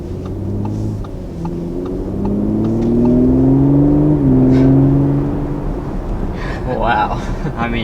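A 2019 Audi RS5 Sportback accelerates from inside the cabin, its engine note rising and swelling into a loud whirring rumble, then easing off, with a voice speaking over the end.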